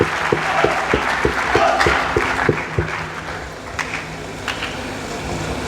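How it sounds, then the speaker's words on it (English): An audience at an inaugural university lecture applauds warmly in a sustained burst of clapping, with a low rhythmic tapping running underneath and the applause thinning toward the end. "Please, let's clap for my parents."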